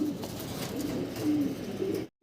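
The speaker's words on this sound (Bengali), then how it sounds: "আমরা প্রচুর সিঙ্গেল কবুতর দেখতেছি ভাইয়ের কাছে" Pigeons coo at a seller's stall, a steady low murmur of overlapping calls running for about two seconds, close and moderately loud, then cutting to silence at the end.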